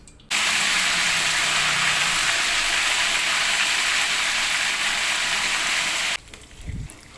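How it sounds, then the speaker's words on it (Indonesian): Chicken fries half-cooked in hot oil for a sweet soy stew, a loud, steady hissing sizzle that starts abruptly, runs for about six seconds and then cuts off. "Bunda, untuk goreng ayamnya setengah matang seperti ini saja ya"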